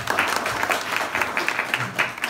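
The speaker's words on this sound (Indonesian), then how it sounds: "Tepuk tangan dulu dong." Audience applause for the Indonesian ambassador at a school delegation event in Wellington, a steady burst of many hands clapping close by, with a few voices faintly underneath.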